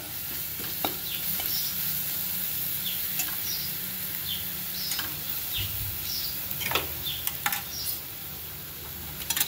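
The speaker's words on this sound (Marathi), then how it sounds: "हे लसूण खोबरं आपल्याला आता चांगलं खरपूस भाजून घ्यायचं" Garlic and grated coconut roasting in a pan for a traditional black bean dal, a continuous dry sizzle with frequent sharp crackles and occasional scraping stirs, close and steady throughout.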